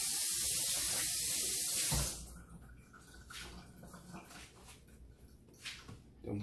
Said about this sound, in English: let me rinse my hands right quick